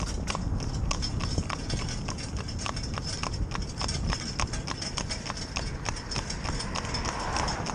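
Acorn, a New Forest pony mare being trained to drive, trots on a hard road, her hooves sounding a quick, regular clip-clop close by over a constant background rumble.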